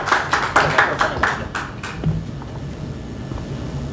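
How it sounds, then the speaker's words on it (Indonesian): Applause from a church congregation at a Sunday service welcoming a speaker, a short burst of sharp, fairly close claps in the first two seconds that quickly dies into quiet room noise. "Kasih tepuk tangan yang meriah buat Jacob Wibowo"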